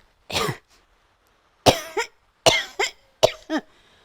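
A series of harsh coughs from a puppet character, one single then three quick double coughs, close and loud against silence.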